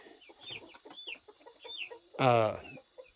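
Small turkey poults chirp and peep in high, rising calls, followed by one louder, harsher call close by.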